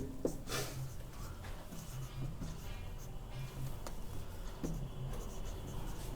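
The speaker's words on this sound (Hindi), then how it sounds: "तो यहाँ पे लिख देते हैं हम" Chalk scratches and taps steadily on a classroom board during a trigonometry lesson, a faint, close, uneven stream of strokes with occasional knocks and soft breathing behind it.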